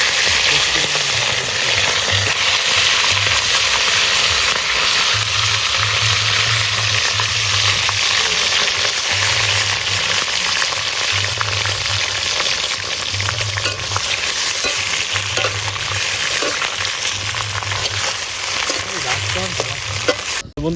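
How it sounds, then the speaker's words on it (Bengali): Fish heads fry in hot oil at an outdoor winter picnic, a loud continuous sizzle with scraping stirs and occasional bubbling bursts that runs unbroken for about twenty seconds. "আমরা এখন মাছের মাথাগুলো ভেজে নেবো ভালো করে।"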